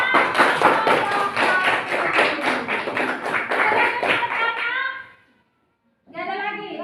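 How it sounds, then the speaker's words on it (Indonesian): A classroom group claps together for about five seconds, a dense run of rhythmic hand claps that stops abruptly. After a short silence, children's voices pick up again. "kita berikan tepuk tangan"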